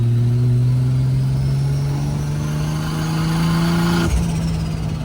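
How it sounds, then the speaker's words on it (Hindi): A 1JZ-GTE turbo drift car pulls hard in third gear on a road, its engine note climbing steadily and loudly before a sharp break near the end as the revs drop off. "दो एक और ये थर्ड गियर पुल है।"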